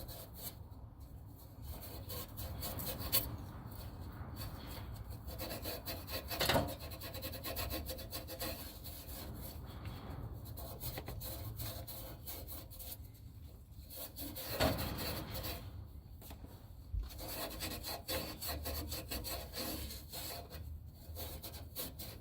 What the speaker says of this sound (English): just want to make sure it's nice and smooth in here. I'm taking some Scotch-Brite.